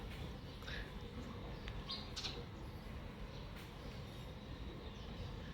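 A house sparrow gives a few short, scattered chirps, fairly faint, over a constant low rumble of outdoor background noise; no voices.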